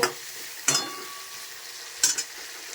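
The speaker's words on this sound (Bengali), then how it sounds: "লাল লাল করে হালকা করে লাল লাল করে ভেজে নিব" Potatoes frying in oil until lightly browned, a soft steady sizzle broken by two sharp scraping stirs of a spatula in the pan.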